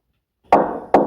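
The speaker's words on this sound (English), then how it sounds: "Did I just hear knocking?" Two sharp, solid knocks on a door, close and loud, spaced about half a second apart, with silence before.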